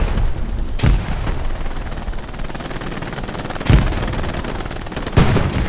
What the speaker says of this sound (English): I hear the guns